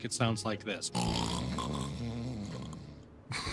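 A voice imitates loud snoring, drawing out one long, rough, rasping snore for a couple of seconds right after brief speech, then breaking off before talk resumes.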